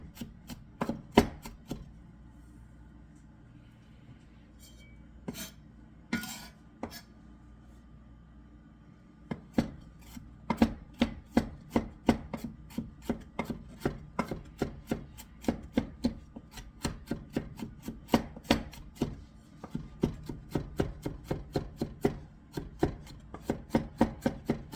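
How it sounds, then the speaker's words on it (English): Knife chopping ingredients for an Afghan ground lamb and eggplant pasta dish: a fast run of sharp, close taps on a cutting board, sparse at first, then steady and rhythmic after a pause, with no talking. "Do you think there's any more chopping?"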